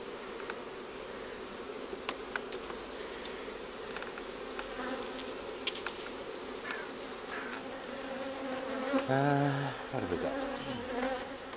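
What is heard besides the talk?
honeybees buzzing during hive inspection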